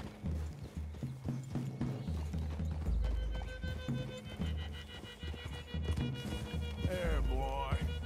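Horse hooves clip-clop steadily at close range in Red Dead Redemption 2, with a whinny near the end, while voices talk over the riding.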